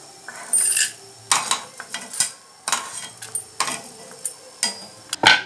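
Roasted chana dal, urad dal and coriander seeds scooped out of a pan with a spoon, a series of close metallic scrapes and clinks in an irregular rhythm, with brief quiet gaps between strokes.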